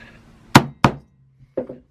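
A screwdriver is tapped against a carburettor screw on a Suzuki GS500 motorcycle, giving two sharp close knocks followed by a softer double tap.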